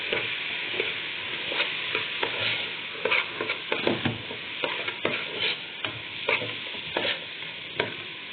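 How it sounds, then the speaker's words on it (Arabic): Half a kilo of soaked, washed basmati rice being stirred and sautéed in a pot with spices, giving a steady sizzle broken by repeated scraping stirs. "هنزل بالرز اللي انا غسلاه ونقعاه، ده رز بسمتي نص كيلو زي ما قلت لكم كده"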